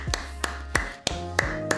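Sharp, dry hand claps, about six spaced sparsely over under two seconds, close and fairly quiet, with a low steady hum underneath and no talking.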